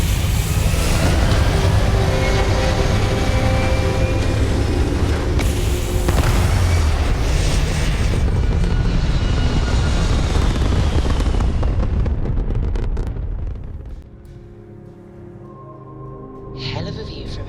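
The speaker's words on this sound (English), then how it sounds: "All thrusters firing." Spaceship thrusters fire in the video game Starfield, a loud, dense roaring rumble that holds for about thirteen seconds, then drops away to a quieter hum.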